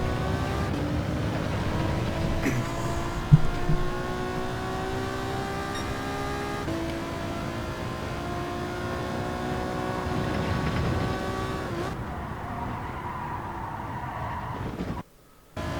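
Race car engine in Gran Turismo 7 on the Lago Maggiore circuit, a continuous droning whine with shifting pitch as it accelerates and brakes, steady and loud, with a brief bump midway and a cut near the end.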